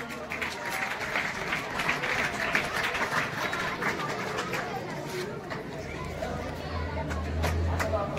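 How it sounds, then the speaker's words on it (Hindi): Sustained applause from an audience at a school honouring ceremony, a dense steady patter of many hands lasting throughout, with murmured chatter and voices mixed underneath. "जोरदार तालियां हो जाए।"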